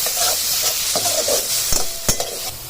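Chopped onion for egg fried rice fries in hot oil with a loud, close, steady sizzle, punctuated by several brief spatula scrapes and knocks against the pan.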